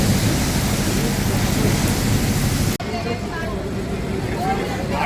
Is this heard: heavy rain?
yes